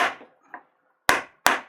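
Wooden hammer strikes during a Japanese woodblock printmaking demonstration: a few sharp, close knocks, two loud isolated blows at the end after softer taps, with no talk.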